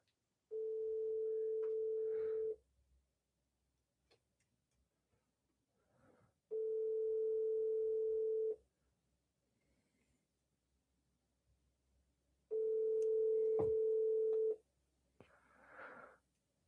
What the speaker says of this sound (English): Please, please, just pick up the phone.